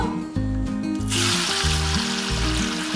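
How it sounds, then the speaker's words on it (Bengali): Banana flower (mocha) balls fry in hot oil, a steady close sizzle that swells louder partway through, with a tonal hum of music running underneath. "এবার আমি একটা একটা করে লাল লাল করে ভেজে নেব"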